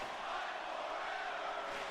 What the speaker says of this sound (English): The crowd is into this one.